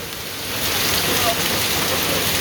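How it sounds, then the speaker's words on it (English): Hail falling during a storm in Pikeville, Tennessee, a dense steady patter of ice hitting surfaces that swells louder after the first half second and stays heavy and close. "Wait, are those hail balls?"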